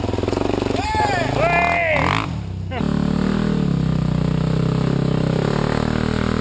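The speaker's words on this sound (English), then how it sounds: "Grant flying up on his DRZ400." Suzuki DRZ400 enduro motorcycle climbing uphill, its engine revving up in rising surges before settling into a loud, steady drone nearby, with voices mixed in.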